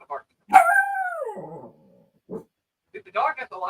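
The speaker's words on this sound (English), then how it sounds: "The dog has a lot to say on this topic" A dog barks in a bright, rising howl-like yelp, followed by a short second bark and then a quick cluster of yips, loud and close with silent gaps between.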